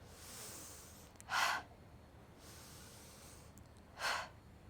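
Pranayama breathing during a yoga practice: soft, long airy inhales followed by two sharp, forceful exhales, close and alone, with no talk.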